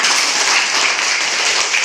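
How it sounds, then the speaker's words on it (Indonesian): A class of children claps hands together in a classroom, a brief, busy patter of many small hands at moderate loudness. "Mari kita tepuk tangan"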